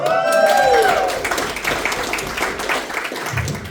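A comedy-show crowd bursts into applause and cheering, with a loud whoop at the start, then steady dense clapping that carries on for several seconds under scattered shouts.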